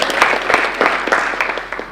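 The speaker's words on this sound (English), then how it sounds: "Hand of applause once again," Audience applauds a student team at a university capital market challenge awarding ceremony, a dense, steady patter of many hands clapping with small rhythmic swells, fairly close and loud throughout.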